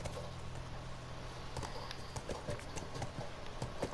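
Horse hooves clip-clop near and steady in The Last of Us Remastered video game, irregular soft thuds over a low ambient hum, with no voices.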